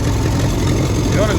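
A Ferguson TE20 grey tractor engine runs close by with a steady, rough low rumble, its revs rising slightly as it pulls away in second gear.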